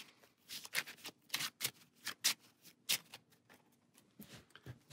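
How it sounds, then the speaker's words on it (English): A deck of board game cards being shuffled by hand, a close, quiet run of crisp riffling bursts and soft slaps repeating in an irregular rhythm with no voices. "Shuffle our D deck for us and our"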